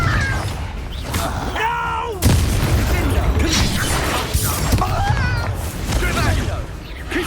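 A Confringo fire-blast spell explodes in Hogwarts Legacy, a sudden sharp burst that jumps out loudly midway and is followed by crackling debris and scuffling, with shouting voices around it.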